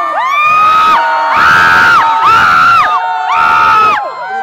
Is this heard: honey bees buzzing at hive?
no